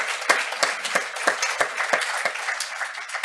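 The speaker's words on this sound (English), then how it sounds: "I want us to clap" An audience at a medical talk on HIV treatment claps together in a steady, fairly even rhythm of sharp hand claps that keeps going throughout, with no speech over it.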